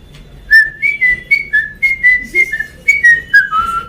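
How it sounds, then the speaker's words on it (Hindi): A person whistles a teasing tune, a run of about a dozen short, sharp, rising and falling notes in a quick rhythm, loud and close with no talking. "पुराने समय से सीटी किसी को छेड़ना तो ऐसे बजाते हैं"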